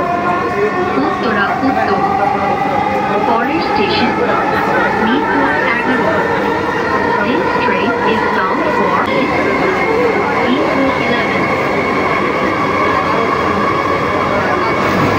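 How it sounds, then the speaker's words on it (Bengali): A metro rail train running at speed, heard from inside the carriage as a loud, continuous rumble with a steady whining tone that slowly rises in pitch throughout, while a person talks over it. "দেখতে পাচ্ছেন ট্রেনটির ভালোই গতি রয়েছে।"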